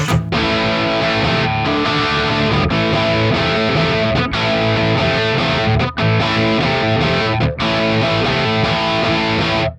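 Crunchy, overdriven electric guitar through an amp plugin's British crunch setting, playing chords and riffs with steady drive, a few brief pauses between phrases, loud and close throughout.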